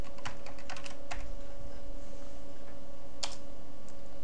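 Commands are typed on a computer keyboard in DOSBox for an assembly tutorial: clusters of quick key clicks early on, a pause, then another short burst, close and crisp over a faint steady hum.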